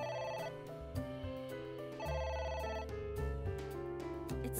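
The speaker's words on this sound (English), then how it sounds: "It won't stop ringing." A telephone ringtone in the video game AI The Somnium Files rings continuously as a steady, loud melodic electronic tone with no voices over it.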